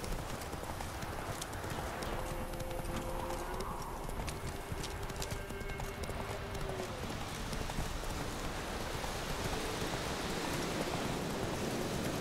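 Hooves of the horse Roach in The Witcher 3, a steady clip-clop of hoofbeats at a walking pace with a soft rain-like ambience behind, alone with no talk.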